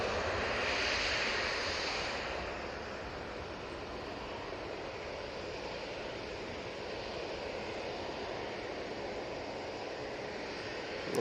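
At Manchester Airport, an Emirates Airbus A380 airliner passes with a soft, distant, steady engine rumble that stays faint and even, slightly fuller at the start.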